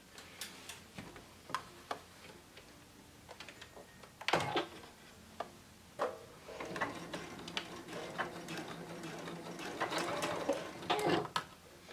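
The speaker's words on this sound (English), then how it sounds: "all I'm going to do is just stitch very, very close to the edge here, just beyond the end of the opening" A sewing machine stitches close to the edge of a zip top pouch, its needle ticking in short quiet bursts with pauses and a brief backstitch, and no talking.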